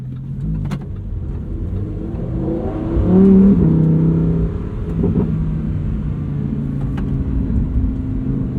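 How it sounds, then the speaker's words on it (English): A red Lamborghini with a 7-speed dual-clutch gearbox accelerates, its engine note rising steadily and swelling loudest midway before settling into a continuous close, strong roar with no talking. "Instant response from the 7-speed dual clutch."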